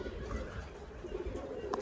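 Old Giribaz flying pigeons coo softly in a flock, a low murmur against steady background noise over a short stretch.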